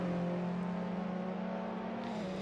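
An Alfa Romeo Giulietta TCR race car pulls into the pits with a steady, droning engine note held at low revs, dipping slightly near the end.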